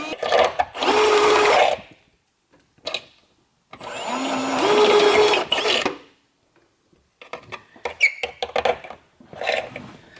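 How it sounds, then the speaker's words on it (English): Two long bursts of a whining power drill drilling a hole during a single-turbo 2JZ Toyota Supra build, several seconds each, close by, followed by shorter clattering tool noises and brief revving. "getting ready to drill the hole"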